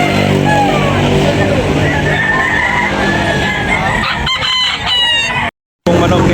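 Roosters crow repeatedly at a busy outdoor chicken market in Tabunok, Talisay, close and loud over a steady din of clucking fowl, with voices and occasional vehicle noise, broken by a brief gap near the end.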